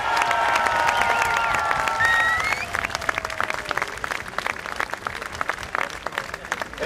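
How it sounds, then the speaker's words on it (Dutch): Crowd applause at an outdoor cyclocross race in Hasselt honoring the winner, Sunweb rider Kevin Pauwels; steady dense clapping with a public-address voice and whistling tones early on, continuing at a slightly lower level. "uw applaus voor de kopman van Sunweb Revor"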